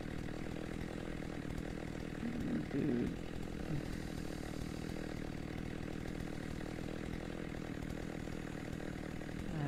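A steady, loud chainsaw drone from a headless chainsaw enemy in Slendytubbies 3 runs continuously through the clip, with a brief spoken exclamation near the start.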